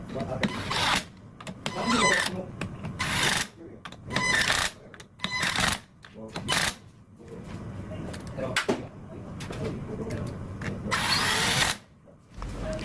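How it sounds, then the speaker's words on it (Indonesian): An impact driver tightens bolts on the clutch cover of a Yamaha Jupiter Z New Robot motorcycle, firing in repeated short bursts separated by brief pauses, fairly close. "Lalu kita kencangkan dengan impact driver ya."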